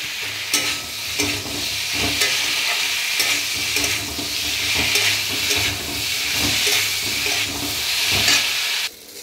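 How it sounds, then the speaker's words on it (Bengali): Vegetables stir-fried in a pan with ginger paste, ground coriander and spices give a loud, steady sizzle, broken by repeated scraping strokes of stirring throughout, with no talking. "এবার মশলার সঙ্গে একটু নেড়ে নেব, কষে নেবো একটু।"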